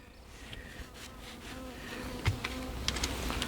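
Honey bees buzzing around their hive in a close, continuous drone, with a few faint knocks and handling noises mixed in.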